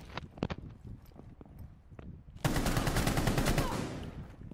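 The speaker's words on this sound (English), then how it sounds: "Where are those ash shots coming from?" Rapid automatic gunfire in Rainbow Six Siege, a sustained loud burst of shots after a few scattered pops and game noise, close and dense for about two seconds.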